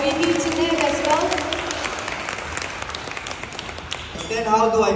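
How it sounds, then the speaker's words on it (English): A seated audience at a Celergen honour roll event breaks into applause, a busy patter of clapping with voices speaking over it at the start and again as it dies away. "let's give a round of applause to our VP Tinette as well."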